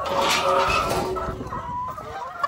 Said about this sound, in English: But man, there's chickens everywhere.